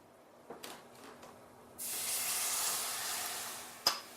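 White wine poured into a hot flour-and-butter roux for a smoked fish sauce, giving a sudden loud, steady sizzling hiss that holds for a couple of seconds after a few small clinks, then a sharp knock near the end.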